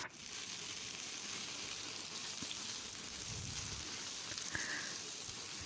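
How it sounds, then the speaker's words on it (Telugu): Chana dal, urad dal, cumin and dried and green chillies fry in hot oil for tomato chutney, giving a faint, steady sizzle that runs unbroken with no talk. "అలాగే అవి కొద్దిగా ఫ్రై అయిన తర్వాత ఎండుమిరపకాయలు, పచ్చిమిరపకాయలు కూడా వేసి ఫ్రై చేస్తున్నాను."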